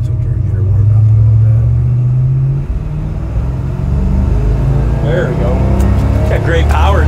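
A 1970 Dodge Dart's engine rumbles steadily at close range with a low, sustained drone, a brief swell in revs, and someone talking over it.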